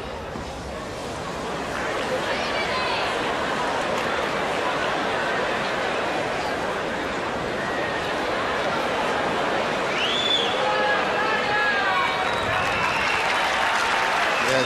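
Crowd at a 2005 Rome semifinal tennis match between Coria and Agassi applauding, a steady broad wash of clapping and crowd noise that swells slightly after the first couple of seconds and holds for the rest.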